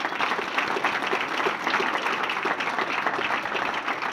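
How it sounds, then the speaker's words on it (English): A Hall of Fame banquet crowd applauds a Murray State inductee, an Olympic track and field athlete; sustained, dense clapping from many hands continues evenly at moderate loudness for several seconds. "big round of applause for Mr. Siebert Straughn"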